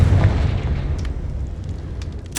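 A fiery Confringo blast spell in the Hogwarts Legacy video game, a deep rumbling boom that starts loud and rolls on as a sustained low roar with faint crackles over the next couple of seconds.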